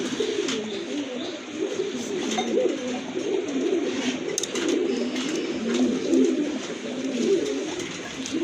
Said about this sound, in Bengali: মাশাল্লাহ আর এক জোড়া ব্লু শার্টিন কবুতর